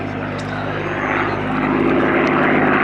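A Spitfire Mark V propeller fighter with a Merlin 45 engine at an air show gives a loud, steady, droning engine roar that swells slightly as it continues.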